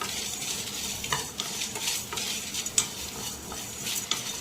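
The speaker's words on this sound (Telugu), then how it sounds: "రెండు లేదా మూడు అంగుళాల కొబ్బరి ముక్కలు నాలుగైదు ఎండిమిరకాయలు వేసుకొని లైట్గా వేపుకుందాం" Coconut pieces and dried red chillies frying lightly in a pan, a soft continuous sizzle broken by repeated scraping stirs of a spoon against the pan, close and fairly quiet.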